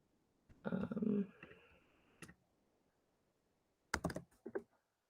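A computer mouse clicks on a link, giving a single faint click and then a short cluster of sharp clicks near the end, quiet and close after a brief muffled rustle at the start.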